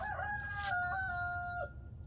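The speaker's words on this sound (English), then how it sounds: "I just really enjoy hearing him crow." A backyard chicken-flock rooster crows one long drawn-out call, clear and fairly close over a low background rumble, with no voices.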